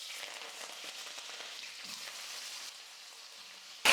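Sliced raw banana (valakkai) with curry leaves sautéing in hot oil in a pan, a steady soft crackling sizzle like light rain throughout, with a louder burst at the very end.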